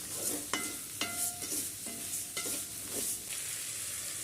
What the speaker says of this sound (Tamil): இப்போ தக்காளி போட்டு வதக்கணும்